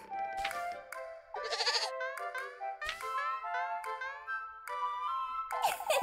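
A goat in the game Little Goody Two Shoes bleats repeatedly in wavering, nasal calls, close and clear, with no talking.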